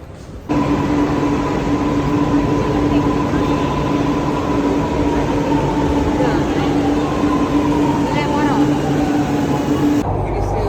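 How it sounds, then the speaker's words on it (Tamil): Inside a moving metro car in Chennai: steady rumbling hum with a rising and falling whine from the motors, continuous throughout, faint background voices. "நாங்கள் இப்போ மெட்ரோ ட்ரெயினில் போய்கிட்டு இருக்கோம்"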